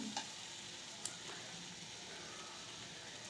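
Chopped tomatoes and green chillies being stirred in a pan for tomato chutney, a faint steady sizzle with a few soft scrapes of the spoon against the pan.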